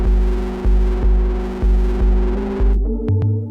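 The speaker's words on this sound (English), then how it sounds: "You have got distortion," A gritty, distorted synthesizer pulses on a repeated low note in an even rhythm, then cuts off with a couple of sharp clicks.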